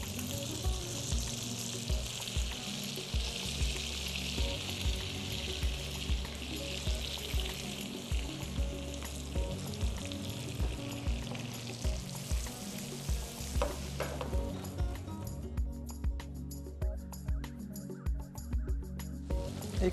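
Hake fillets fry in oil in a pan with a steady close sizzle, while regular soft thumps and scraping stirring strokes repeat throughout, and the crackle thins toward the end.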